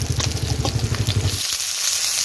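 Pieces of shol fish (snakehead) fry in oil. A bubbling, pulsing sizzle comes first, then settles into a softer, steady hiss close by, with no one talking.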